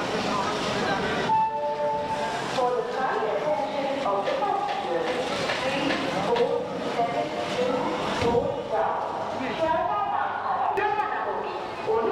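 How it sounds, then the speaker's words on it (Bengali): A local train at Sealdah station's south platform in Kolkata, with continuous rail rumble and busy platform noise throughout, and voices talking over it. "আমি আপনাদেরকে একটা লোকাল ট্রেন দেখাচ্ছি"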